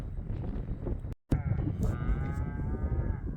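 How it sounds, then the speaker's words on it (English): Cattle mooing on a ranch outdoors, a long drawn-out low moo rising over steady wind noise after a brief dropout, fairly close and clear. "there's the cows"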